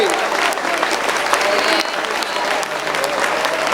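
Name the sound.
church congregation clapping hands in praise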